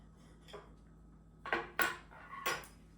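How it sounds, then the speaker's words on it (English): A steak knife saws through warm homemade dinner rolls in a few short, faint scraping strokes, quiet and close, with no talking. "I should have grabbed the bread knife. I just grabbed a steak knife."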